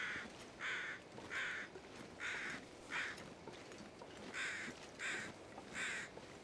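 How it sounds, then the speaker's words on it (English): Crows in The Long Dark video game cawing in a repeated series of about nine harsh calls in short groups, moderately distant over a low wind-like ambience. "have I been to whatever they're crowing about?"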